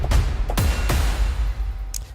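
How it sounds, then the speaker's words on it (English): Heavy metallic cinematic percussion from the Forest Ferrum sample library, free version: loud booming low hits with clanging strikes, three or four blows in an irregular pattern ringing into a dense rumble. "So very like metal cinematic percussion."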